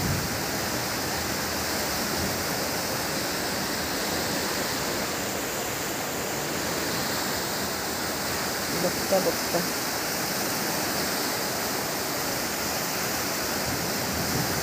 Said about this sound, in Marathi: नाला ओव्हरफ्लो झाला, पाणी वाढतच चाललंय।